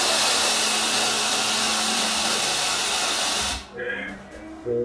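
A demonstration car airbag deploys with a loud, steady hiss of rushing gas lasting several seconds before cutting off abruptly, followed by faint voices.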